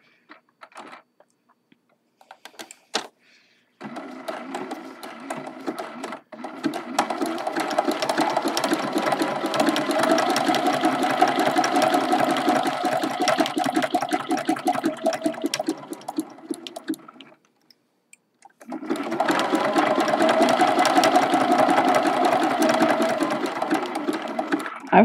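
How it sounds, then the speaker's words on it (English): A sewing machine runs a fine zigzag stitch along both sides of a thin fabric handle on a quilted mug rug, with a few short starts, then a long steady run, a pause and another sustained burst. "we're sewing both sides of that handle, so it kind of needs to be a smaller zigzag"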